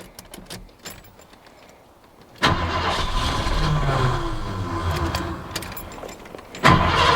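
A 39-year-old Ford F150 truck engine cranks hard with a loud, steady whirring churn for about four seconds, then briefly again, close up, without any speech.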